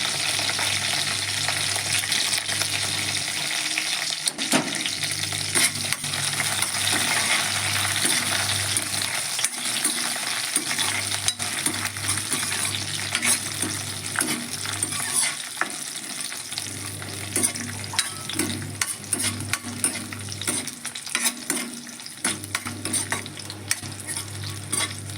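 Curry leaves and a bay leaf sizzle in hot oil, with garlic already in the pan, a steady crackling fry broken by repeated scraping strokes of a spoon stirring against the pan.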